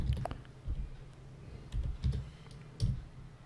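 A command is typed on a computer keyboard, with soft keystrokes in small clusters, faint and close, with no one speaking.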